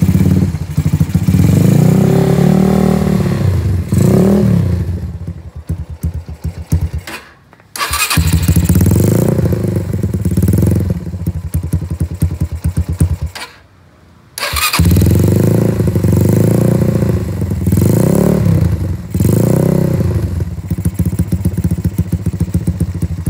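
Modified Honda Mega Pro motorcycle engine running close and loud, rising and falling through repeated revs with two short pauses between bursts, a rough clattering single-cylinder tone throughout.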